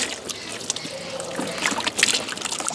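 Running water splashes and trickles steadily over fresh trout fillets as they are rinsed clean, close and continuous for a few seconds.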